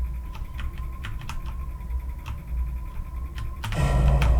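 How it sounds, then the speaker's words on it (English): Quick, irregular key clacks from a computer keyboard typing into a game console, close and fairly crisp, ending in a louder burst of noise. "go to the console and type kill"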